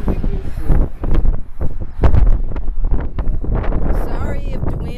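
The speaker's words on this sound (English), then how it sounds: "Sorry if the wind is blowing." Gusty wind buffets the microphone on an outdoor walk, rough low rumbling bursts and rustle coming and going throughout, close and loud.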